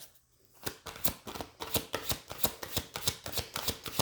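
Tarot cards are shuffled in a quick, steady rhythm of crisp riffling slaps, close up, after a brief quiet start.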